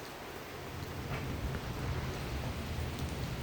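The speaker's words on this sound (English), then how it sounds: "it's raining harder now" Steady rain pours down outdoors, a soft, dense hiss of drops that builds slightly in loudness over a few seconds, with no voices over it.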